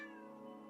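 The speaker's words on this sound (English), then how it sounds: "She's over at the cabinet meowing at it" A cat meows steadily at a cabinet in a home, one drawn-out, fairly faint call holding a tonal pitch for nearly a second.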